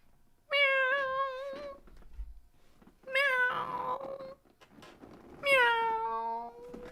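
A cat meows three times as a super chat alert, each one a clear, tonal, drawn-out call with quiet gaps between them, close and distinct.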